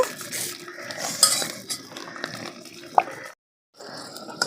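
Green chillies frying in a little oil in a pan, stirred with a utensil: faint sizzling under clinking and scraping of metal on the pan, with a sharp knock partway through and a brief silent gap near the end.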